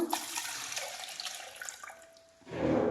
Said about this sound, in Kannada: ಕೋಕೋನಟ್ಟಲ್ಲಿರೋ ವಾಟರ್ನೆಲ್ಲ ಹಾಕ್ತಿದ್ದೀನಿ